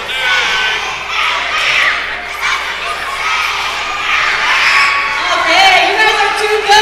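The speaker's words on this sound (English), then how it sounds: "The crowd here at the home of the UMB Reds having a little fun playing some games with a couple of the announcers." A lively arena crowd at the home of the UMB Reds during a wheelchair basketball game break, with children and adults shouting, cheering and whooping continuously, loud and close, with voices mixed throughout.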